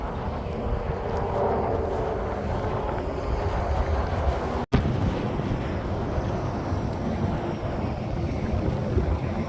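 Wind gusts roar steadily into the microphone during a spring walk beside an interstate in Albuquerque, a loud continuous rumble with one brief dropout midway and no talking.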